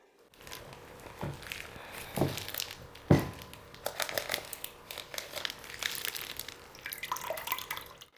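Liquid from a whole turkey packed in two plastic bags drains and splashes out, with continuous irregular trickling, dripping and crinkling of plastic, fairly quiet and close, with no talking.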